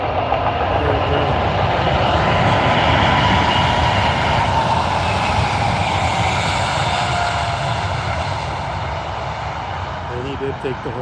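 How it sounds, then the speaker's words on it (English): A Boeing 747 jet roars down the runway on its takeoff roll at an Anchorage airport, a loud, steady broadband engine rumble that holds strong throughout and eases only slightly toward the end. "It's a 747, so it's going to take the whole runway almost."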